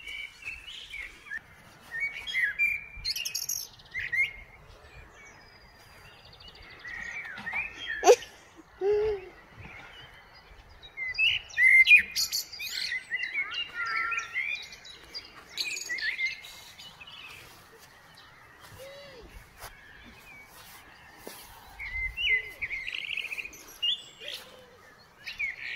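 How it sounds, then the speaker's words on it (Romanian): Small birds sing outdoors in scattered bursts of high chirps and trills, some close and some further off, against an otherwise quiet background with no talk. "Păsărelele cum cântă."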